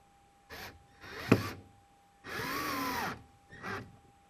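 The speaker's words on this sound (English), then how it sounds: "I'm just going to fasten the first screw a little bit better" A power drill drives a screw into wood for a bathroom storage project, running in four short bursts, the longest near the end, with a clear whirring rise and a faint steady background tone.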